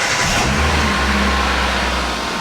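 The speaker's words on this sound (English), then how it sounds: "I'll fire it up. We'll just let it tick over." A Hyundai Amica 1.1 petrol engine, 2007, idling just after an oil change, a loud steady low hum near at hand after a brief rise as it settles, with no talking.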